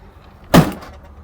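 A single solid thud as a door shuts on a 1996 Marmon truck, short and close with a brief low rumble after the impact.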